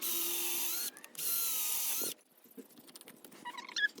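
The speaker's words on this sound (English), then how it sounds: "And I can drill my pocket holes." A drill bores pocket holes in wood for a compost bin in two loud, steady whirring bursts, followed by quieter clatter and handling of the wood and tool.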